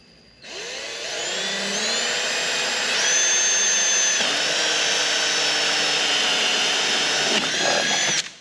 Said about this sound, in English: get the drill here and get drilling